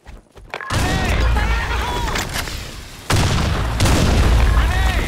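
Grenade blasts in a multiplayer shooter video game: after a brief quiet start, a loud booming explosion erupts with sustained rumbling debris, then a second heavy blast around the midpoint keeps the roar going, with gunfire-like pops mixed in.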